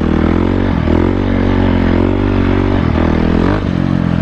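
Motorcycle engine running steadily as it is ridden, a loud sustained drone with brief dips and shifts in pitch as the throttle changes, close to the microphone with no talking.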